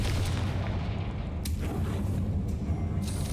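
A Confringo fire spell in Hogwarts Legacy bursting into a dense, rumbling explosion with sharp crackling hits near the middle and end, loud and sustained, with no talk.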